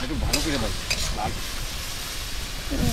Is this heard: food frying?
yes